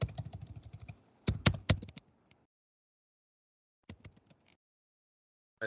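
Typing on a computer keyboard sounds as a quick run of close key clicks, then a few louder taps, a pause and a brief final burst of keystrokes.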